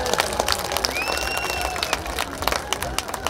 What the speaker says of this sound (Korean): 여러분 군수님께 아주 큰 박수 한번 부탁드립니다